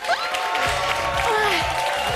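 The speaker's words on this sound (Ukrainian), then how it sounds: "Ці оплески вам" Studio audience applause on a Ukrainian televised talent show, a steady wash of clapping with tonal music or voices running through it.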